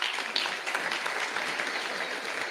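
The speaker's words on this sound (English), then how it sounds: "let's give Dr. Umar Johnson another round of applause" Audience applause after an appreciation-day talk, a steady wash of many hands clapping that holds at an even level for the whole stretch, with no voices rising above it.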